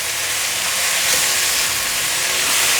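Shredded carrots stir-fried in a hot wok with black fungus and bamboo shoots give a loud, continuous sizzling hiss, close and steady throughout.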